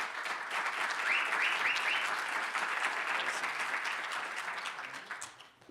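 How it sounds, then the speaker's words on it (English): An audience applauds a speaker at a World Usability Day talk, steady full clapping with a few short whistles early on, then tapering off toward the end. "So let's give a totally unsnarky round of applause for Stephan"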